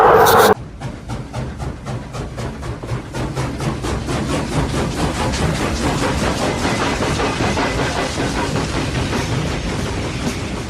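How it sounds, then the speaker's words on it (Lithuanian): A train rolls along with a steady, rhythmic clatter of wheels over rail joints, loud and close, following a brief burst of louder noise at the very start. "Keistas traukinys"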